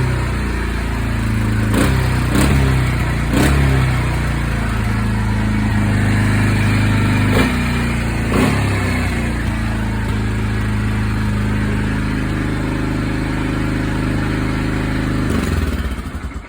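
A Kymco Maxxer 300 scooter engine running at high revs, a loud, steady close drone with a few sharp blips and surges before dropping off at the end.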